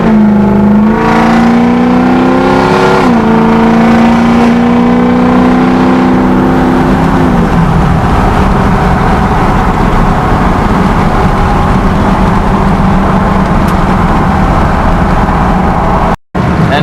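A 6.0 Powerstroke diesel pickup on 35-inch tires rolls into about three-quarter throttle, the engine droning loud and close as it climbs through a gear shift and the tires break loose, sustained roar throughout.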